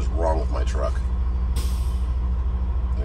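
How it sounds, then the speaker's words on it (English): A neighboring truck's air compressor purges through its governor valve with a sudden loud hiss midway, set against a constant low engine rumble at a truck stop, with someone talking over it beforehand. "The guy's truck next to me sounds like a airliner crashing until the air purges out of the compressor."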